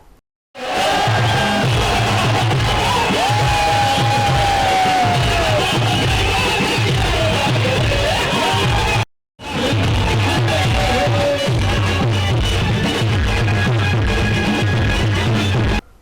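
A crowd cheers and whoops loudly at a birthday celebration for Bhushan Londhe, founder-president of PL Group, in Satpur, Nashik. The roar is dense and continuous, cutting out briefly midway before resuming just as strongly.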